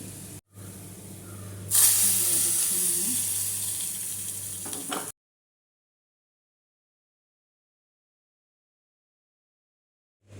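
Onions, curry leaves and dried chilies sizzle and fry in a pan for a ghee roast, a steady close hiss lasting a few seconds before cutting to silence.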